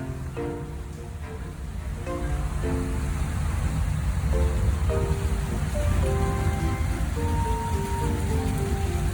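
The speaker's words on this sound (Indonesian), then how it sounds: "Beberapa saat hujan mulai reda, walau ombak masih saja belum reda." Rain falls on a boat at sea: a dense, steady patter of drops that swells slightly over time. A soft melodic tune plays over the hiss and no one speaks.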